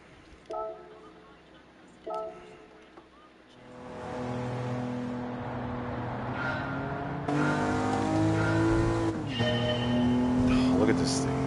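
A 1971 Nissan Fairlady 240ZG engine drones and revs steadily in Gran Turismo 7, with a rising then dipping pitch, after a few short tonal beeps, continuous and fairly loud throughout.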